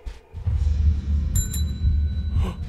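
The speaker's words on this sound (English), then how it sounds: "Because I rang the bell." A bell rings in the Inside the Backrooms video game, two bright metallic strikes that sit above a low rumbling game background, with a faint later chime.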